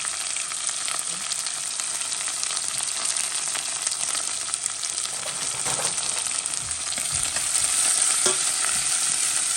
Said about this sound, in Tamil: வெங்காயம், உள்ளி, பச்சை மிளகாய் எல்லாத்தையும் போடுறோம்.